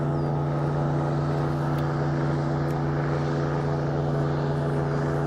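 Propeller engine of an airboat or drone on Lake Okeechobee during a bass fishing tournament, running rough: a steady, loud, droning hum with a strong low tone, continuous and alone with no talk.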